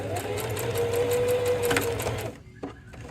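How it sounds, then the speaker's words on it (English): Sewing machine running steadily as it stitches a fabric plant pot holder closed, a continuous mechanical whir that stops near the end, followed by a couple of soft clicks. "I've stitched that gap beautifully closed"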